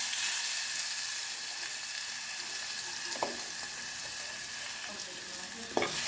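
Ground spice powder sizzles in a pan for buttermilk curry, a soft continuous frying hiss with a couple of faint scrapes of stirring, close but quiet.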